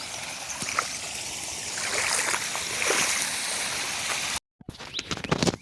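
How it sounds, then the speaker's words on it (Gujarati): Steady broadband rush of irrigation water flowing and trickling into a castor field outdoors, close by, with a brief dropout and then splashy bursts near the end. "પાણી ચાલુ કરી દીધું છે"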